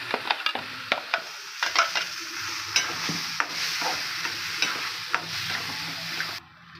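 Chopped chayote sautés in a pan with tempering spices, curry leaves and ground paste for pachadi. A spoon scrapes and stirs in a steady rhythm over a soft, continuous sizzle, with no voices.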